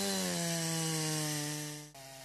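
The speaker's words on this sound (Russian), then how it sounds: "Вооружившись бензопилами, представители власти приступают к распилке валежника." Petrol chainsaws cutting deadwood at a community clean-up day, a loud close engine whine held steady before briefly dipping and returning near the end.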